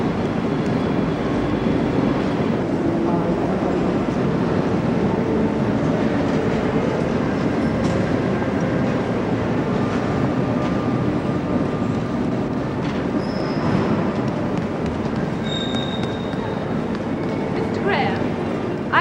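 A train at a station, a constant loud rumble of rolling wagons and rail noise with occasional faint squeals, continuous throughout, with people talking over it.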